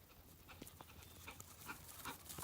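A dog pants quickly and quietly nearby, soft rapid breaths with a few faint whimpers, against a low background.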